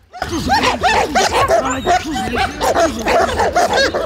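Several dogs barking and yipping continuously in a loud, busy chorus, with overlapping barks close by and a lively crowd-like background.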